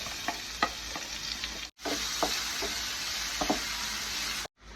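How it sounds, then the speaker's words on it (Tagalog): Onion and garlic sauté in the same pan that seared the beef, giving a steady close sizzle with scraping spatula stirs throughout, broken by two brief quiet gaps. "Sa same pan kung saan natin naluto yung ating beef, satein na natin yung onion at garlic."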